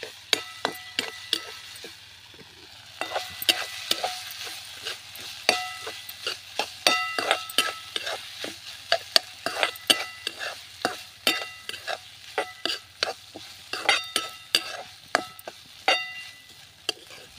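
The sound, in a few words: green chilies sautéing in oil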